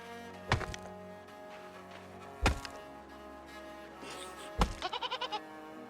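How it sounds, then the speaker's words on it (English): Goats in the base-building video game REKA give short bleats, one breaking into a quick stuttering series near the end, interspersed with sharp thunks over a steady, tonal game soundscape. "Yep, we got goats."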